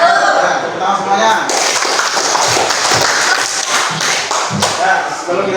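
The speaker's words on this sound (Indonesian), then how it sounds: "Tepuk tangan semuanya." Students clapping hands in a classroom, heard as a burst of scattered, uneven claps and taps mixed with thumps, with children's voices chattering over it.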